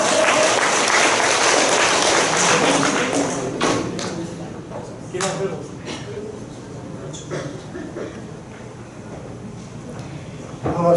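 Church forum audience applauding at the close of a congratulatory address, dense clapping loud at first then thinning and fading to scattered claps with murmur beneath.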